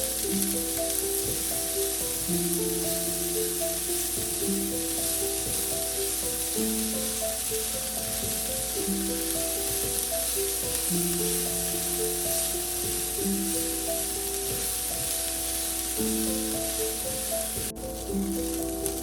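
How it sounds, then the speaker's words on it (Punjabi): Chopped onions sizzling steadily in a pan on a medium gas flame for a Punjabi-style arbi curry, a continuous dense crackling hiss with occasional stirring, no talk. "ਗੈਸ ਵੀ ਮੀਡੀਅਮ ਤੇ ਰੱਖਾਂਗੇ ਜੀ ਕਰ ਮੀਡੀਅਮ ਤੇ ਭੁੰਨਾਂਗੇ ਸਾਰਾ"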